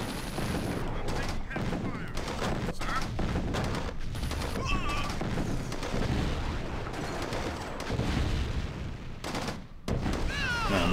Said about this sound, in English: I'm taking heavy fire, sir.